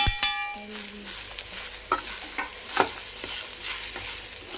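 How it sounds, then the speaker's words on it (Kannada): Grated coconut lightly fried in a pan, a soft steady sizzle under repeated scraping stirs of a spoon against the metal, close and moderately loud, with no talking. "ತುಂಬ ಅಲ್ಲ, ಲೈಟಾಗಿ ಸ್ವಲ್ಪ ಫ್ರೈ ಆದರೆ ಸಾಕು."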